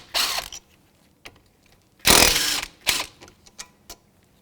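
A 14mm socket on a ratchet or impact tool breaks loose and backs out caliper slider bolts on a 2002-2006 Nissan Altima's front brakes, heard as a few short, loud mechanical bursts separated by quiet pauses and small clicks.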